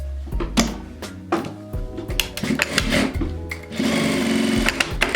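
Sewing machine stitching closed the opening of a fabric storage container, running in short stop-start bursts of rapid mechanical clatter, close and clear, ending in a longer continuous run.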